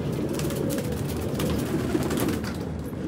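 Pet pigeons coo nearby in a steady, soft, rumbling chorus of low throaty calls with a faint background hiss.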